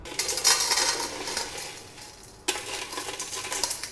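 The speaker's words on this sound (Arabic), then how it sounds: "تعالوا بقى نفضي كده الازاز بالراحه كده خالص" Gritty crunching and scraping as crushed glass shards are shaken and tipped out of an industrial blender jar, with a sharp clatter partway through.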